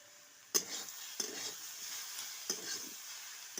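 Masala with salt, turmeric, chili powder and a green chili is stir-fried in a pan, with three or four distinct spatula scrapes over a soft, continuous sizzle, heard close.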